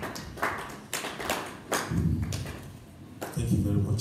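Church congregation clapping in a few sharp separate bursts, each clap loud and close with a short room echo, spaced irregularly over about four seconds.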